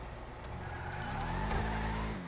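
A Bravado Gauntlet Classic muscle car in GTA V Online revs loudly and close up, its engine note climbing steadily in pitch over about two seconds with no talk.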